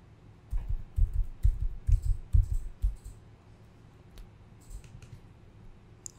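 Quick bursts of keystrokes on a computer keyboard while filling in setup details for a WordPress site on a server, close and clicky, clustered in the first few seconds then thinning to scattered taps.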